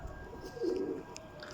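One imported pigeon gives a single soft coo near a house rooftop over a quiet background.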